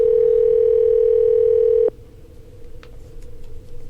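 A steady electronic telephone tone hums for about two seconds, then cuts off, leaving faint line noise and a few soft clicks.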